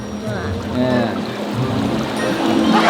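Waterfall at Phu Foi Lom in Udon Thani gives a steady, loud rush of falling water, with people talking over it.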